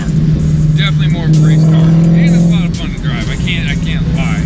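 A 2022 Ford Shelby GT500 with a 760-horsepower engine drones steadily while driving, a loud continuous low engine note that swells briefly mid-clip, heard beneath ongoing talk.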